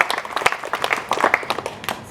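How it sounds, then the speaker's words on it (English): A small audience claps for volunteers at a museum opening, individual sharp claps standing out within a loose, uneven patter close by. "I think they deserve a big clap."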